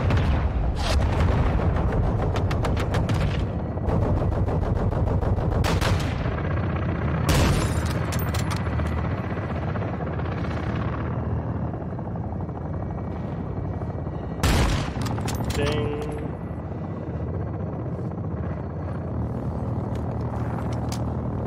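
Helicopter gunfire hits a vehicle in Modern Warfare 2, with sharp bursts of shots and booming impacts over a steady rotor drone and battlefield rumble. Several loud blasts stand out, at the start, near the middle and again later.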